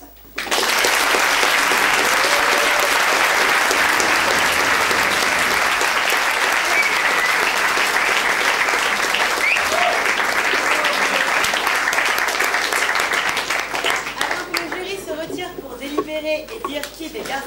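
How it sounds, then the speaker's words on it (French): Loud, sustained applause from a large audience at an evening battle-of-the-sexes show, honouring contestants and jury, steady for most of the stretch before thinning into scattered claps and crowd noise near the end. "Je vais vous demander d'applaudir encore une fois les candidats et le jury pour leur super prestation"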